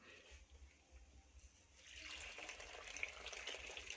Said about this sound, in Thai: ปล่อยน้ำออกก่อน เดี๋ยวเปลี่ยนน้ำใหม่แล้ว